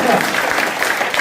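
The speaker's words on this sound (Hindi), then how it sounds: "ताली बजा दीजिए आप लोग" Applause from a seated audience at a business seminar hall, a dense, even wash of many hands clapping at close range, steady and fairly loud throughout.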